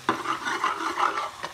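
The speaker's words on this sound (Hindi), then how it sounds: "अभी इसको थोड़ा सा मिक्स कर दूँगी" A spoon scrapes and stirs a thick masala in a cooking pot, making quick, close, rasping strokes in an uneven rhythm, with a faint sizzle underneath and no voices.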